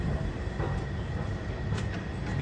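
An M53 metro train arrives at a station in Amsterdam, a steady near rumble of wheels and carriages with a faint brake hiss, no talk over it.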